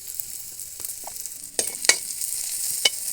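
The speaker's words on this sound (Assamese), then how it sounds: "এতিয়া আমি পিঁয়াজখিনি ব্ৰাউন হোৱালৈকে ভাজিম" Onions fry in oil with turmeric for an Assamese potato, pea and tomato curry, a soft continuous sizzle broken by a few sharper stirring scrapes and clicks.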